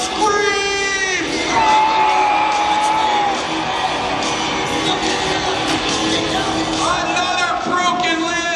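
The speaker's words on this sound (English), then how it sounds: "And the PD crowd screams!" A jousting audience screams and cheers after an American rider breaks a lance, loud whoops and yells swelling over a steady crowd roar, with a commentator's voice rising above at the start and near the end.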